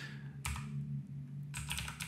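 Keys clatter on a computer keyboard in two short bursts of quick typing separated by a pause, faint and close, over a low steady hum.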